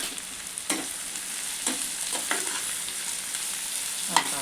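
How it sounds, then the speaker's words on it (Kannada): Onions frying in a pan for a village-style chicken biryani, a steady close sizzle with several sharp stirring scrapes, no voices. "ನೀರುಳ್ಳಿ ಹಾಕಿ ಚಂದ ಒಂಚೂರು ಫ್ರೈ ಮಾಡ್ಕೊಂಡು"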